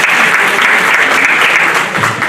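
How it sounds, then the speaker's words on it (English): A live audience applauds at the close of an evening event, dense, steady clapping filling the room at close range with no pause. "give yourselves a round of applause"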